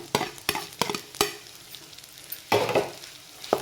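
Dried prawns frying with onions in a pan for an egg and prawn curry, sharp spatula knocks and scrapes punctuating a low sizzle, with a louder burst of frying near the end.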